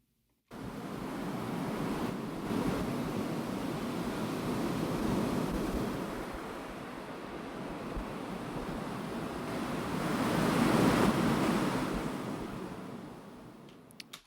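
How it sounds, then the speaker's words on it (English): Soft, steady wind mixed with a gentle ocean wash, swelling and fading slowly, no voices, ending abruptly. "Light ocean winds during the day."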